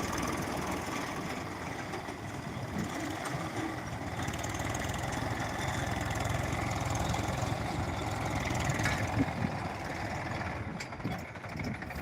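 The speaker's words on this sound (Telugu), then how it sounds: "ట్రాక్టర్ అప్గ్రేడ్ ఎట్లున్నది ఇప్పుడు ఎట్లా నడుస్తుంది అనేది మీకు చూపించే ప్రయత్నం చేసిన" A tractor engine runs steadily while ploughing a cotton field, giving a continuous loud mid-to-low rumble with no breaks.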